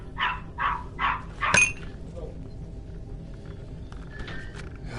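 Four quick dog barks in a row, fairly near, then a sharp clink and a stretch of quiet room noise with faint background sounds.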